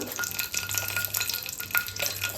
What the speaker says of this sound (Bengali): এর মধ্যে আমি ফোড়ন দিয়ে দেবো দুটো কাঁচা লঙ্কা শুকনো লঙ্কা